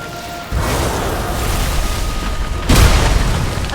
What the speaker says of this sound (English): You destroy the focus crystals.